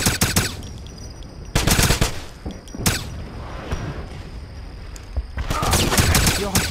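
Machine gun fire in the video game Wolfenstein, several loud bursts of rapid automatic shots separated by short pauses, with explosive thumps and battle noise between them.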